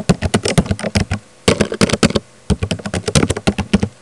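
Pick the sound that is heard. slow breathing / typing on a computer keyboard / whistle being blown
typing on a computer keyboard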